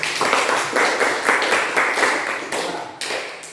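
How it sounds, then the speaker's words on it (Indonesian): Students in a classroom clap for a presenting group, a short burst of a few hands with distinct rhythmic claps, close and fairly loud, tapering off after a few seconds. "Oke, tepuk tangan untuk kelompok 1."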